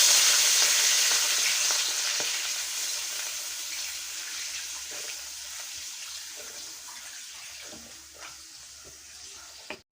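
Milk is poured into hot melted ghee in a pan while making semolina gulab jamun, giving a loud, close hissing sizzle that slowly fades over several seconds before a final clatter.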